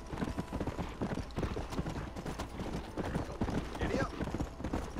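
A horse gallops in the Red Dead Redemption video game, with steady rapid hoof clip-clop up close, and a voice talking over it.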